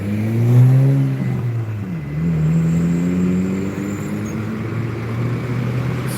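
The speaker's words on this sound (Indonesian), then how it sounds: "Sebondo Sweetes Kombi pakai bodi SR3, sasis Mercy 1626, menuju terminal" A Sebondo bus with an SR3 body on a Mercedes 1626 chassis heading toward a terminal, its diesel engine droning close by and rising in pitch as it pulls away, then easing and settling into a steady hum.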